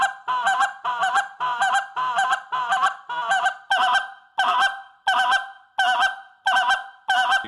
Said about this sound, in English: you can also add some moans and some like spit sounds in front of the double cluck